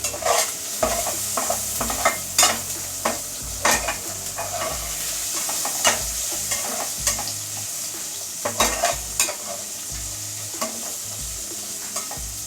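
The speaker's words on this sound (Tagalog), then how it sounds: "Then, haluin muna po natin siya." A spoon stirs goto porridge in a pot, scraping and clinking in irregular bursts against the metal over a soft simmering sizzle, close and fairly loud with no speech.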